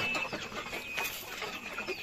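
Small backyard flock of farm-raised broiler chickens, 73 days old, clucking and chattering continuously at close range with scattered overlapping calls.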